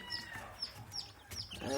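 Sonali chicken chicks chirp in short high peeping calls, several in quick succession, fairly faint against a low background.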